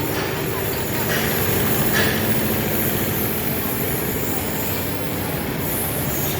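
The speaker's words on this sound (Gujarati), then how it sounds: "આ તમે જોઈ રહ્યા છો, ટ્રેન આવી રહી છે." A train arriving at Vadodara railway station, a loud sustained rumble and roar of rolling stock with a faint high squeal on top, steady throughout, while a voice speaks over it.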